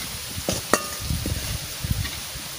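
Fried onion slices for fish biryani are stirred and lifted out of hot oil, with a soft steady sizzle and a few sharp metal clinks and scrapes of a spatula against the pan.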